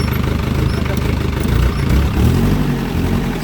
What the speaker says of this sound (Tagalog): So rev mo lang ng konti, tapos patayin mo yung engine.